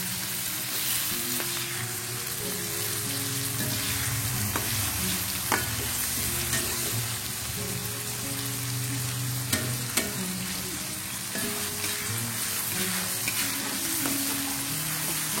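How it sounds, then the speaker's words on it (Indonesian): Sambal geprek ingredients fry in a pan over moderate heat, a continuous loud sizzle with scattered spatters and occasional clicks of stirring, close and without talk. "Ini kita goreng sampai udah kecium wanginya, setengah matang lah kira-kira gorengnya."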